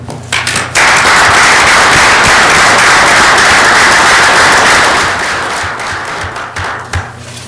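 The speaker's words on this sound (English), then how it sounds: "take a moment and applaud yourselves" A council meeting audience applauds itself in a loud, dense burst of clapping that starts abruptly, holds steady for several seconds, then tapers off as a few late claps linger.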